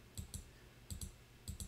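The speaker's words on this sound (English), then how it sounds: "Double tap on the Windows key" Three pairs of quick double taps on a computer keyboard key, crisp and close, evenly spaced over a quiet background with no voices.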